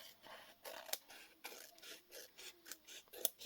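Scissors trim the edge of a paper craft tag in a quiet room, giving a rhythmic series of close, crisp snips and rasping cuts, about eight in a row with short gaps between.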